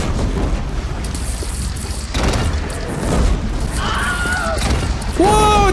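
Cannon fire and explosions in the video game Horizon Zero Dawn: several heavy booming blasts land over a continuous din of battle, with the last one loud and close.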